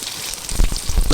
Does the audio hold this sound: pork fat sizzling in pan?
yes